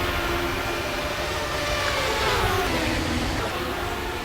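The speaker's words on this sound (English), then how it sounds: "You can hear him in the rev limiter down there on the end of the back straightaway." A V6-powered race car bounces off its rev limiter at the far end of the back straightaway during qualifying at Phoenix International, a steady distant engine drone with stuttering high harmonics against a broad roar of ambient noise.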